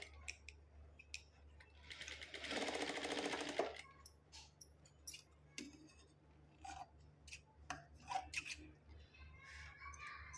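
A sewing machine stitches lace onto fabric for decorative latkans, heard as a faint, brief run of steady mechanical whirring, with soft clicks and fabric handling around it.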